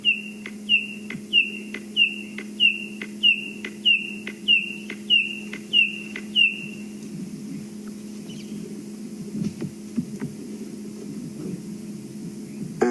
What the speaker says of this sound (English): And that is a red-crested koorhaan